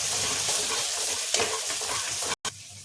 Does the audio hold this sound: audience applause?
no